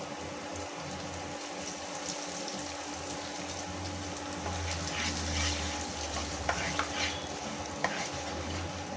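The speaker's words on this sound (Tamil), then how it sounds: "இப்போ வந்து நம்ம அரைச்சி வச்ச பேஸ்ட்டை உள்ளே போட்டுடலாம்" Ground masala paste of ginger and garlic fries in a pan for cauliflower gravy, giving a soft steady sizzle with scattered stirring scrapes and light clicks. It is fairly quiet, no one speaks, and a faint steady hum sits underneath.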